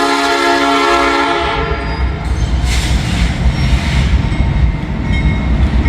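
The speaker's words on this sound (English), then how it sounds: "we got a Norfolk Southern train coming here, folks" A Norfolk Southern train rolls through Hamilton: a sustained horn blast fades into the loud, continuous rumble and clatter of wheels on rail, close by.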